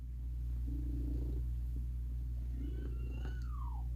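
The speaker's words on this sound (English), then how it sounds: "She's my purring kitty." A pet cat purring close by, a soft steady low rumble running continuously under faint room noise, with a few brief higher murmurs near the end.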